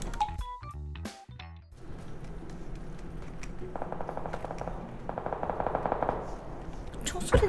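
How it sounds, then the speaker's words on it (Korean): Bursts of machine gun fire in a shooting video game, rapid rattling volleys from mid-distance, following a few sharp clicks and thumps at the start. "총소리 나서 가도 되려나?"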